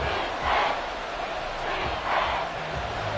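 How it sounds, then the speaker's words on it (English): Loud football stadium crowd at a Commanders game, a sustained broad roar that swells twice, on third down, with no clear talk over it. "this crowd making it hard to hear"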